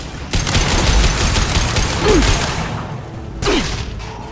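Rapid gunfire in the video game Mass Effect 2, a loud sustained burst of overlapping shots followed by a short pause and a second burst, with brief whooshing effects between them.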